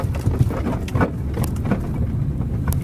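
Worn rear beam silent blocks on a Hyundai Solaris make a dull, rumbling rattle from inside the cabin, with scattered knocks and clunks over a steady rough background.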